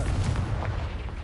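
Confringo blasting spell explosion in Hogwarts Legacy, a short dense low boom with crackling burst, loud and close, filling the brief moment alone.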